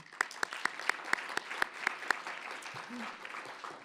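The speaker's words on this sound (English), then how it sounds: "so round of applause again" At a student life awards ceremony, an audience claps in quiet, sustained applause, with a few sharp, evenly spaced claps standing out close by and a brief voice near the end.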